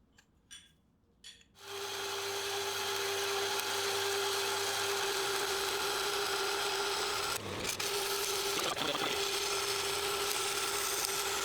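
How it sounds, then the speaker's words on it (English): A drill bores a pivot hole through a steel knife blade, with a couple of faint taps first, then a steady whining motor drone that holds for about ten seconds with a brief dip partway through. "we'll drill out the pivot hole and also the hole for the stock pin"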